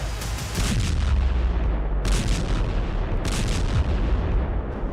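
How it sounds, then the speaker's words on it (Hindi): Air strike explosions over Beirut in news footage, a dense run of heavy booming blasts and rumbling impacts, loud and continuous with sharp bursts standing out, and no speech. "इजरायल की एयर स्ट्राइक, बेरूत में बारूदी हमला।"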